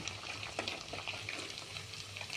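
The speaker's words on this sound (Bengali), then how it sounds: "হালকা করে ভেজে নিচ্ছি।" Paneer cubes fry lightly in a pan, making a soft, quiet sizzle broken by small crackles and stirring scrapes.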